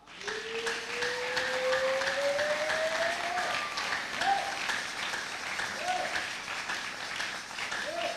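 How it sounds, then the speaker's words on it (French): A church congregation bursts into sustained applause in praise of the Lord, a dense wash of clapping lasting several seconds with a voice briefly rising above it. "Est-ce qu'on peut acclamer le Seigneur?"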